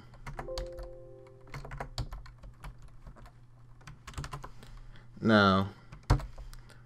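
A computer keyboard is typed on in short, quiet bursts of clicks while a person speaks, and one louder tonal sound comes near the end.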